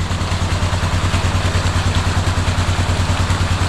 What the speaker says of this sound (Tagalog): Hirap yung makina.